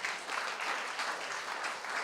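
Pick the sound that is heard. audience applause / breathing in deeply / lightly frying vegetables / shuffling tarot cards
audience applause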